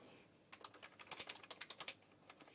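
Keys clack in a quick irregular burst on a wired computer keyboard, close and fairly quiet, with no talking.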